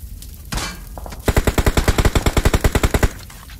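Rapid automatic gunfire in a BGMI battle, a burst of about sixteen evenly spaced loud shots after a brief scuffle of lighter noise, close and sharp with no talk over it.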